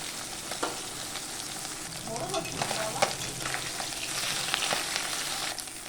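Tangra fish frying in oil in a pan gives a soft, even sizzle with almost no spattering or popping. It holds a steady hiss from start to finish.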